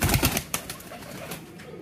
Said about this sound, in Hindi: ये देखें जी कबूतर देखें माशाल्लाह